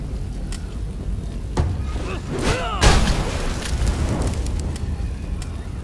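A bomb blast in the video game Massive Chalice, a deep boom with crackling, rumbling debris that swells midway and then trails off, sitting over continuous game ambience with no talk.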